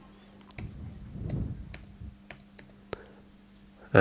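Someone types on a computer keyboard into a Google search box. The keystrokes are sparse and quiet, with a low hum running underneath and a louder clatter at the very end.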